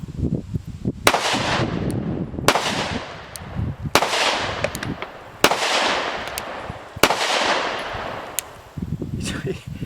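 A SIG Macro X compensated concealed-carry pistol with a ported slide firing on a range: five loud, sharp cracks spaced one to two seconds apart, each followed by a decaying echo, with some background voices.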